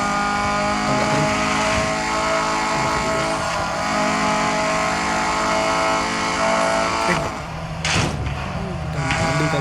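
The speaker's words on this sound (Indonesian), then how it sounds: "ini kita pakai Hyundai Turbo lagi yang kita beli" Turbocharged Hyundai car engine racing in the mobile game Real Racing 3, a loud sustained rev with shifting pitch, brief tire noise near the end.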